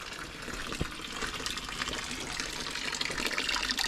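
Steady rushing water from a waterfall stream at Hidden Valley Springs, Laguna, splashes and gurgles continuously at close range, with no one speaking.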